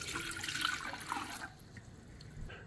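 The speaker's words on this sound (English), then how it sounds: "we can start by filling this up with some water" Water runs from a tap into an Audecook 1.5L electric hot pot with steamer, a splashing, gurgling pour for about a second and a half that then tapers off into faint drips, quiet and close.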